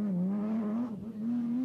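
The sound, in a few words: BMW M1 Group B rally car driving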